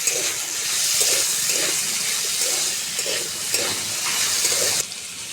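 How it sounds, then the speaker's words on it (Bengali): Chopped medium tomato stirred into potatoes in a frying pan for a Bengali vegetarian potato curry, giving a steady sizzling hiss with a series of soft, rhythmic scraping stirs, close and continuous, ending with a slight drop. "এবারে দিয়ে দিচ্ছি একটা মাঝারি সাইজের টমেটো কুচি দিয়ে কিছুক্ষণ নেড়ে ফেড়ে নেব আলুর সঙ্গে"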